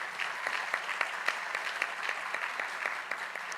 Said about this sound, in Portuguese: Vamos bater uma salva de palmas para o Gabriel aqui, gente